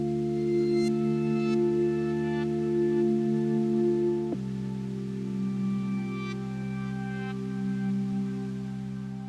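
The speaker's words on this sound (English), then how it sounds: "firstly you have this kind of electric piano synth type sound." Sustained electric-piano-style synth chords ring out steadily, with one chord change about halfway through and faint bell-like upper overtones, alone and without talk.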